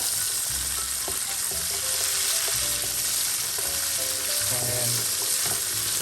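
Asparagus and green beans sautéing in a pan, likely with butter and garlic: a loud, constant close sizzle with light clicks and taps of stirring scattered through it.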